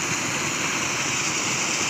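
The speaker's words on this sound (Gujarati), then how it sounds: "ત્યાંથી મિત્રો નદી ચાલુ" A river flows in a steady, broad rush of water that fills the whole stretch evenly, close and constant with no voices.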